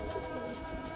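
A Shah Parwaz pigeon coos softly and close by, a brief low rolling call against a steady background hum.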